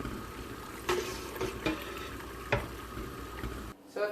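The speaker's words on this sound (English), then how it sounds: "pretty much the pan is full with the cold water" Cold water from a faucet runs into a pan holding goat's milk curds for Colby cheese, a steady gushing with a few clinks and splashes, then a brief stop and restart near the end.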